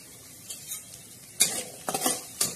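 Chopped onion and green chillies, salted, frying in a pan are stirred, giving a faint steady sizzle broken by a few sharp scraping and clinking strokes of the spoon against the pan.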